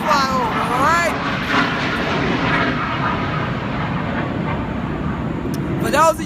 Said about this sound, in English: the bad thing is about you have jets you have to deal with. So, and something, so we're going to just let them fly over